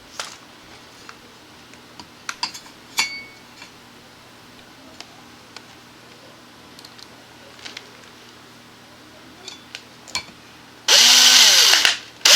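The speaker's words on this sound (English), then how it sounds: "Now I'm going to drill a very small pilot hole and put my screws in." A drill makes a small pilot hole for screws in a DIY shoulder rig: a short, loud burst near the end, after a long quiet stretch of faint clicks and handling taps.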